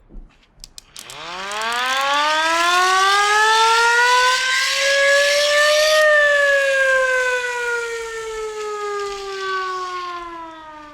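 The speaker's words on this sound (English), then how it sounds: "It's a siren. This is what percussionists get to do." A siren played as an orchestral percussion instrument winds up from a few short clicks into a loud, steady wail that rises in pitch for several seconds, then slowly sinks as it winds down, heard alone.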